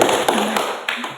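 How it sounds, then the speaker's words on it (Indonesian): A classroom group applauding, a short dense burst of clapping heard up close. "Tepuk tangan dulu."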